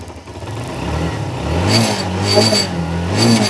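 A used motorcycle on a bike showroom floor, in fresh condition with no accident history, runs close by: a steady engine rumble that revs up and climbs in pitch partway through, then holds at a higher throttle.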